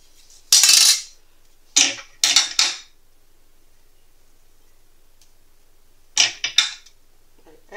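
A blade cutting through something on a hard surface in a few short, crisp bursts: one cut, then a quick cluster of cuts, a long quiet pause, and another close cluster near the end.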